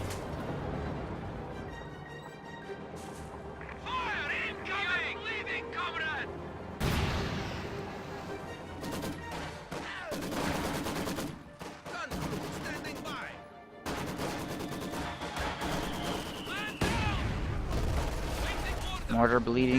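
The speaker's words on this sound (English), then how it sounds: "Mortar bleeding these combat engineers a little bit. Maxim firing on the grenadiers here." Maxim machine gun bursts and mortar fire rattle through a real-time strategy battle, with repeated sharp gunshot bursts and booms over a steady game soundscape while a commentator talks throughout.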